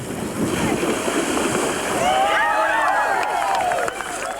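Mountain bike riders splash across a creek at a sporting event, giving a loud rushing and churning of water with crowd noise mixed in and bright whistling tones in the second half.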